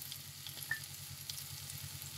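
Oil heating in a frying pan on the stove, a soft steady sizzle with a few faint pops and ticks, quiet and close with no talking.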